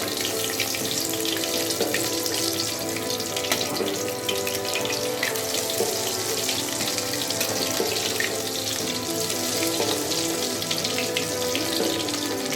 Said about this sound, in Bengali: আমাদের এই চিকেন পকোড়াগুলো আমরা ভাজছি